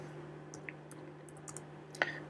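Keystrokes on a computer keyboard while entering a spanning tree command, a few sparse, quiet clicks ending in one sharper tap, over a low steady electrical hum.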